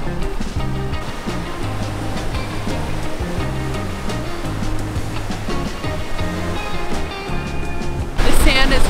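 Rough surf breaks on a beach in Cozumel, Mexico, a loud continuous wash of churning water close by, with a sudden harsher burst near the end.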